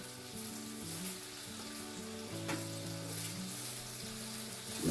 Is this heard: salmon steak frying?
yes